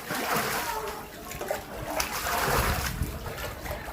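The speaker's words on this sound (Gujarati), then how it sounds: "જો પાણી કાઢી રહ્યા છે જો ઘરમાં પાણી ભરાણા છે બધા" Floodwater splashing and sloshing as it is scooped and tipped out of a flooded house in Wankaner after the Machhu dam overflowed, uneven pours and splatters close by, with faint voices in the background.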